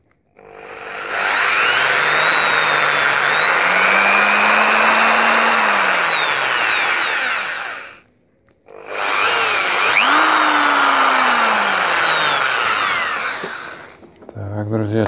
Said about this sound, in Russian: Сейчас я вот тут отметил, буду засверливаться.